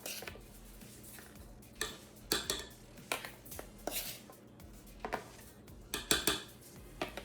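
Red velvet cupcake frosting being whisked with icing sugar, with irregular clinking and tapping of utensil against bowl, fairly close and moderately loud, without talk.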